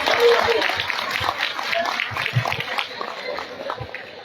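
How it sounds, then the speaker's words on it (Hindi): Applause from an audience at a college annual function, scattered claps and crowd noise in a moderately loud burst that thins out over a few seconds. "तालियां जी।"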